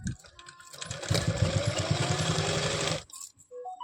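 A sewing machine stitches a double-folded hem on palazzo pants, running in a steady rapid burst of mechanical pulses for about two seconds before stopping, close and clear with no talk.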